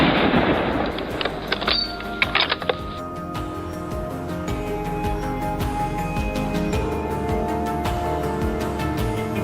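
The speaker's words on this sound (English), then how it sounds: "I tracked the moving shadows and squeezed off a series of shots" Rapid rifle shots ring out one after another during a hillside wild boar hunt, sharp loud cracks repeating steadily over a continuous outdoor background with no talking.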